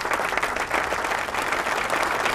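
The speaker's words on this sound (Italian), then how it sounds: "un applauso di buon futuro e di buone cose" An audience at a fashion collection show in Ancona breaks into applause, a dense, even wash of many hands clapping at steady loudness with no pause.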